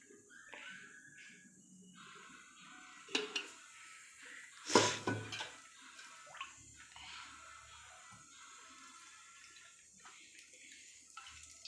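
Oil poured into a pan for a Solapur-style peanut chutney (burkha), a short splashing pour midway with a few faint clinks of utensils and quiet kitchen background.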